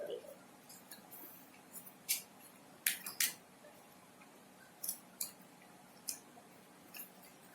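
Sheets of paper being folded into a paper ball, producing scattered faint crisp creases and snaps over a quiet background, without speech.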